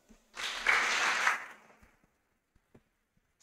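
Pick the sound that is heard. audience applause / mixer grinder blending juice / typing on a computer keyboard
audience applause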